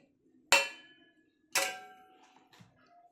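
Tomatoes go into a metal pot of mixed sambar vegetables: two sharp ringing metallic clanks about a second apart, each fading slowly, then a softer tap, in a quiet room with no talk.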